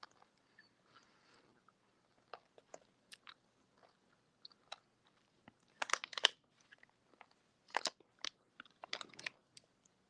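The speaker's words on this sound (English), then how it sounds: "Y'all hear me crunching this nerd rope?" Crunching and chewing of Nerds Rope candy, close and quiet, in scattered irregular bursts of crisp bites with short pauses between them and no talk.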